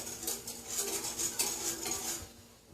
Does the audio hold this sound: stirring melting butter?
yes